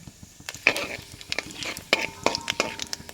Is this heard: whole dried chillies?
yes